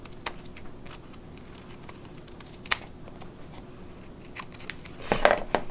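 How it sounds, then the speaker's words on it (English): Scissors trim a paper emoji bookmark in a few faint, scattered snips and clicks over a quiet background, with a small flurry of cuts toward the end. "Now you can cut into it a little bit just to round things out, just to make it look a little rounder."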